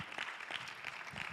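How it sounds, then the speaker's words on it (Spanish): Church congregation applauding at a Spanish-language service, a steady wash of clapping with soft rhythmic peaks, fairly faint and brief. "Give a big applause to the Lord."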